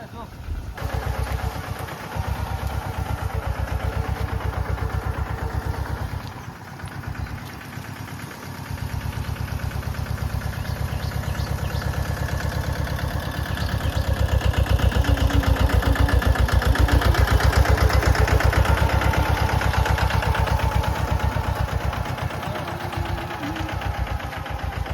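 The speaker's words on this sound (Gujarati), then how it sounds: "કાલે ટ્રેક્ટર આવ્યું ઓરણીવાળું," A tractor fitted with a seed drill for sowing idles on a farm, its engine a steady mid-pitched rumble that continues throughout and swells slightly midway, with people talking over it.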